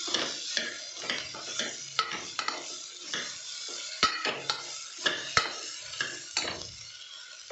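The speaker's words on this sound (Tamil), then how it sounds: "சொரக்காய் போட்டு அதையும் நம்ம நல்லா வதக்கிடலாம்." Bottle gourd pieces are stir-fried with browned onion in a pan for sambar, with repeated scraping and clattering of a spoon against the pan over a low sizzle, close and irregular.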